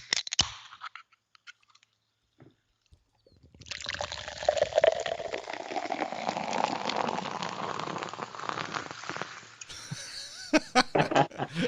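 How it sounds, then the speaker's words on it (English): Fizzy LaCroix Mango sparkling water poured from an opened pop-top can, a steady bubbling, crackling liquid rush that starts after a few seconds of near quiet and runs close and fairly loud to the end. "That pour is cheating."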